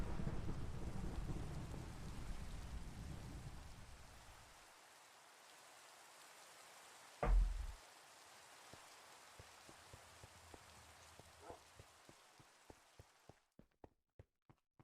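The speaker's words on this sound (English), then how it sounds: "Thunderstorm too." In The Citadel video game, a thunderstorm brings steady rain hiss that fades out, one sharp crack of thunder midway, then scattered single raindrop ticks spaced out toward the end.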